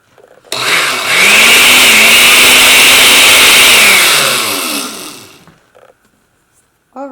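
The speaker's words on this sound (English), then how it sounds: "once you have pulverized your graham crackers" Graham crackers grinding in a food processor make a loud, continuous motor whir that runs about five seconds, then winds down to silence with a few faint knocks after.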